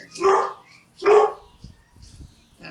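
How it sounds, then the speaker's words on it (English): A dog close by gives two loud, sharp barks about a second apart, followed by a few faint whimpering yips. "Excuse my dog barking"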